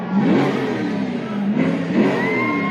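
Car engines rev at a street protest convoy in Ottawa, Ontario, rising and falling in loud surges, with a crowd faintly audible underneath.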